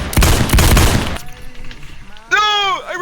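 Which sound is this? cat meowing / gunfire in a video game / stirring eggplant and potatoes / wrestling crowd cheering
gunfire in a video game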